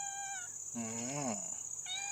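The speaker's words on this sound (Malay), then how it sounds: "Saya bersama si kucing saya, yaitu si Putih." A cat meows once, a clear drawn-out call in a garden, with a steady high insect drone running throughout; no speech.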